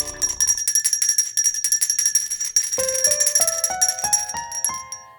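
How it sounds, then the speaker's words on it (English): Cartoon morning bells ring out in a bright, tinkling series, first as a dense cluster of chimes, then as separate clear tones stepping upward in pitch, loud and close with no talking. "Morning bells are ringing."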